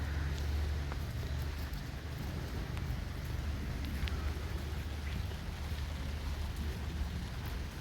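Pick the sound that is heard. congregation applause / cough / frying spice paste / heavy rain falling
heavy rain falling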